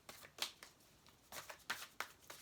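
Oracle cards, a Divine Feminine deck, shuffled by hand in quick papery bursts that come in uneven clusters, close and fairly soft, with no voice over them.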